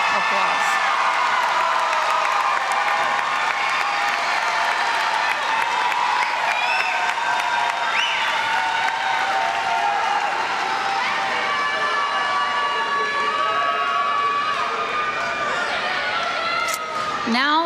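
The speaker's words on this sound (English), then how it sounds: "Let's give them a round of applause." Steady, loud applause and cheering fill a commencement ceremony hall, a large audience clapping continuously with scattered whoops and shouts throughout.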